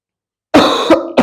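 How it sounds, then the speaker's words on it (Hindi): Strong, harsh coughing from a person who is unwell: after half a second of silence, three close, loud coughs in quick succession. "बार बार खांसी बहुत तेज चल रही है"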